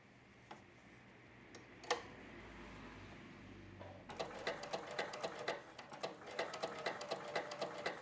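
A sewing machine bastes a seam on a swimming costume, its rapid mechanical ticking starting after a few quiet seconds and running steadily with small pulses, after some light handling clicks earlier on.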